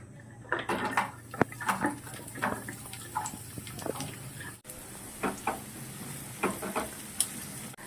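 Onions fry in a little oil in a pan for a paneer tomato curry, giving a quiet, steady sizzle broken by scattered scraping and clinking stirring sounds.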